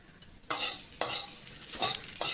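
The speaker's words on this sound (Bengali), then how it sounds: "ভাজার পর দেখবে একটা পিট করে আওয়াজ উঠবে চালগুলো থেকে" Raw rice grains being fried in a pan with black pepper and salt while making pulao, soft sizzling broken by several bursts of stirring and crackling scrapes, close and fairly quiet.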